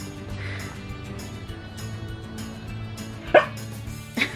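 A dog at home gives a sharp bark, then a quieter second one a moment later, near and distinct over a low background.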